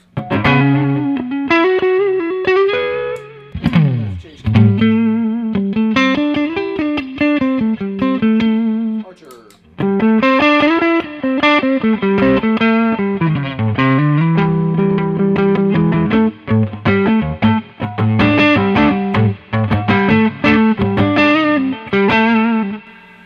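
Overdriven electric guitar through an Archer overdrive pedal plays a melodic, gritty lead line with sustained notes and short pauses, warm and somewhat dark in tone.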